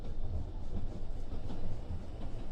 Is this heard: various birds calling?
no